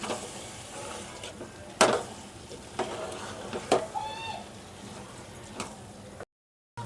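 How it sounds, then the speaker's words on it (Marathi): Rice sautéed in a pan for prawn pulao: soft, intermittent scrapes and stirring knocks over a low, steady sizzle, fairly quiet and close, with no one talking. "याच्यामध्ये ना हा तांदूळ पण चांगला परतून घ्यायचा जेणेकरून तांदूळ पण थोडासा असा जरा छान फ्राय झाला पाहिजे"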